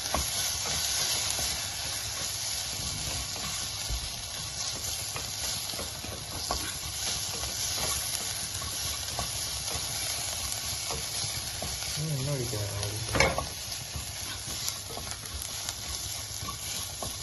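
Liver roast masala stirred and sizzling in a pan, a steady close frying hiss with spoon scrapes and light clatter throughout, and one louder scrape near the end; no talking.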